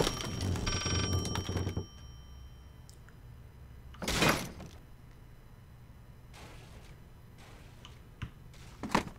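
An old telephone ringing in the horror game Layers of Fear, a rattling bell burst at the start followed by sparse knocks and mechanical clatter in a quiet room.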